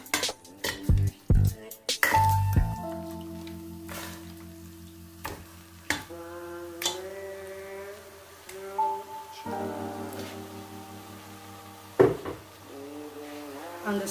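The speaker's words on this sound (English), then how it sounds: "So firstly, I'm just going to put the meat into the pot." Meat going into a cooking pot for vegetable soup, with a series of clattering metal knocks and scrapes followed by ringing pot tones and intermittent clinks, close and fairly quiet, with a voice faintly present.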